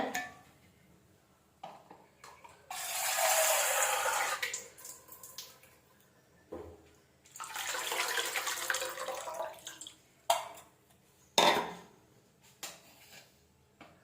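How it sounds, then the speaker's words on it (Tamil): Dissolved tamarind water is poured into a pan while making a yam fry, two separate faint splashing pours with small clinks and drips between them in a quiet kitchen. "ஒரு நெல்லிக்காய் பெருசு புளி எடுத்து கரைச்சி இதில் ஊற்றிக்கிறேன்"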